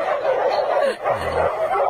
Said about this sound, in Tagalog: Pag maraming aso, huwag kayong tumakbo